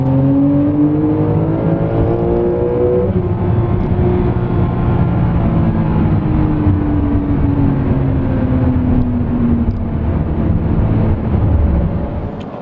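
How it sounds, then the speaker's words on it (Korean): A Porsche 911 Carrera 4S coupe accelerates hard in normal drive mode, its engine note climbing steadily, then dropping at a quick gear change and pulling up again, loud and close throughout. "엑셀러레이터에 밟는 정도에 따라서 빨리빨리 변속이 이루어지는 걸볼 수가 있습니다"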